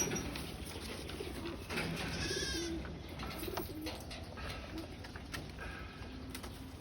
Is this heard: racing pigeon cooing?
yes